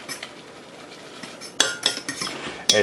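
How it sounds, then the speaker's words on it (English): A utensil stirs creamy, cheesy noodles in a pot, soft wet scraping followed by several sharper clinks against the metal side near the end, close and without talking. "I'm just stirring this up until I get my nice, creamy, cheesy noodles"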